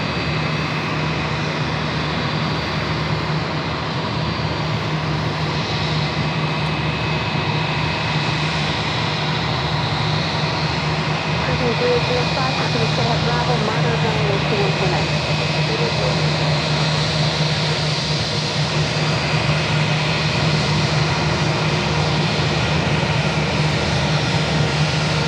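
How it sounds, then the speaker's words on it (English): Jet airliners arriving and departing at JFK airport, including a Boeing 777-200ER and an Emirates jet, produce a loud, continuous engine roar that stays steady for the whole stretch without any voices. "We also have American Airlines Flight 95 coming in from Madrid, a 777-200ER as we wait for the Emirates to depart."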